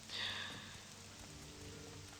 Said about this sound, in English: one thing I really enjoyed is this rain